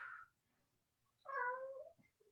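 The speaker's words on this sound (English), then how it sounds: "Okay, Mr. Kitty." A house cat meows indoors during a core workout session: a short cry, then after a pause a louder, longer drawn-out meow, close by and alone without talk.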